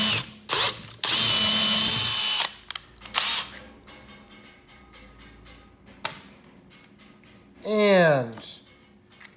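A power drill bores a pilot hole through wood, in several loud whirring bursts separated by pauses and quieter handling noises; a rising-then-falling whine sounds near the end.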